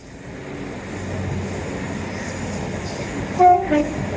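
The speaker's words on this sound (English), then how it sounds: "Happy train." A train rumbles past steadily, and near the end its horn gives two short blasts.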